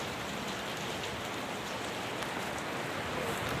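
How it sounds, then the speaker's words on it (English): Steady rain falls on a lake, a dense, even hiss of drops across the whole stretch with no voices over it. "it's happened to be raining"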